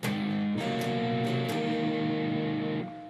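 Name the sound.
guitar riff, part 3 of a song so far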